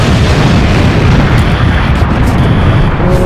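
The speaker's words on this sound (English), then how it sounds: "It's the double bomb." Loud bomb explosion sound effect on a children's TV game show, a dense sustained rumbling boom filling the whole stretch with no talk over it.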